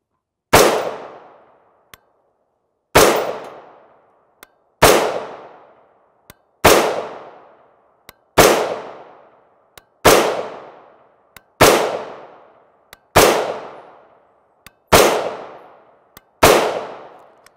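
Nine loud AR rifle shots firing 5.56x45mm 55-grain FMJ rounds from AAC, evenly spaced about two seconds apart, each a sharp close crack with a ringing decay, plus faint metallic clinks of ejected brass between them.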